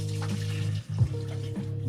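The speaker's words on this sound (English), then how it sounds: "Draining the Aburasoba," Water being drained off instant Myojo Bubuka-style aburasoba noodles, a steady pouring rush with a brief dip partway through, close and fairly loud, with no talking.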